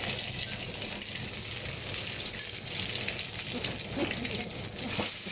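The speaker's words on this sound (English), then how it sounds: "When it's hot, then we put the 2 tablespoons of red curry paste and fry." Two tablespoons of red curry paste frying in hot cooking oil for a Thai stir-fry sauce, a steady close sizzle with faint stirring and occasional pops.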